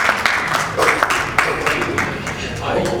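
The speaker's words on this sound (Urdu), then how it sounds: "इनके लिए बहुत सारी तालियां।" An audience at an international Urdu poetry mushaira in Mississauga, Canada applauds a Pakistani poet, with lively, irregular clapping from many hands and a host's voice speaking over parts of it.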